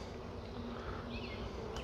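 Honeybees inside an active hive make a dense, steady buzzing drone. It is close and constant, with no voices.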